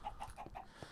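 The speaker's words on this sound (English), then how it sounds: "we have gotten a couple of chickens spawning from those 2 chicken baits" Chickens cluck in a Minecraft Sky Factory 3 modpack, a quick run of four or five short clucks heard close and fairly faint, with no talking.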